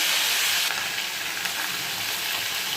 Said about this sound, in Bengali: জিরে তেজপাতা ফোড়ন দিয়ে এবার এগুলো সব দিয়ে দেবো, একসঙ্গে ভেজে নেবো নুন হলুদ দিয়ে